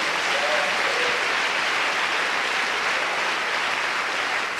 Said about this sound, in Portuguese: vamos dar um aplauso a Ele